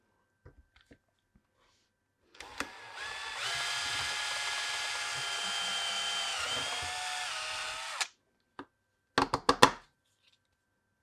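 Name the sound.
power drill drilling a hole in a board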